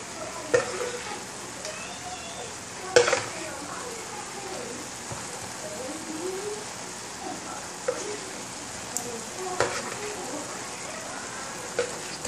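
Shrimp added a few at a time to a hot pot, a steady sizzle with intermittent sharp pops and clinks as pieces drop in, while someone speaks over it.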